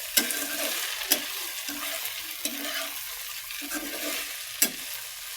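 Okra frying in a pan, a steady sizzle broken by repeated scraping strokes of a spatula stirring, with a few sharp clinks against the pan.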